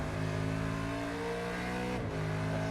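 Holden Commodore Supercars race car engine in iRacing at Road America, a loud sustained drone with steady harmonics and a brief dip in pitch partway through, as if on a gear change.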